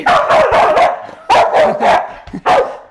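A protective dog barks loudly and close by in repeated bursts, several quick barks in clusters with short pauses between, standing alone without talk.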